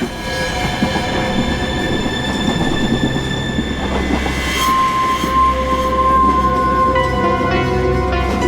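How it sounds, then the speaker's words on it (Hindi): A moving train rumbles steadily and loudly throughout, with metallic wheel squeal and clattering along the rails, and no voices. "जिधर ट्रेन ले जाए उधर चले जाए।"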